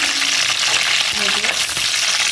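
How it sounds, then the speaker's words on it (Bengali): Chopped onions dropped into hot oil already holding whole cardamom, cloves and black pepper for a chicken stew, a loud, steady, close sizzle with faint stirring underneath. "এখন এখানে আমি দিয়ে দিব পেঁয়াজ কুচিটা।"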